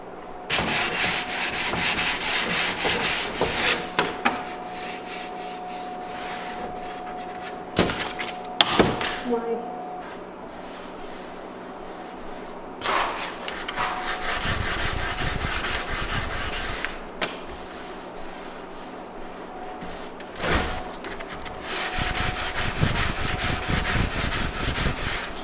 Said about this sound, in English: sand it a little bit more, and I'm gonna go ahead and prime it